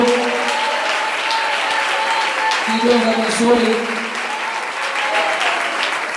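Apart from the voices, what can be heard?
church congregation applauding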